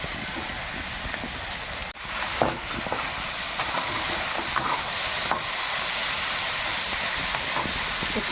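Spring onions and capsicum frying in a kadai for a chicken kosha, an even hissing sizzle throughout, broken by occasional knocks and scrapes of stirring close by.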